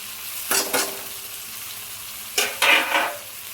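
Finely chopped green chilies fry and get stirred in a hot pan, two bursts of stirring and sizzling a couple of seconds apart over a low steady background.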